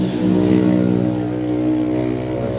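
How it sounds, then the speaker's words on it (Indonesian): A motorcycle passing close by on a street near a submersible water pump, its engine a loud steady drone with a faint rise and fall, heard alone without talk. "ada motor lewat mohon maaf ya"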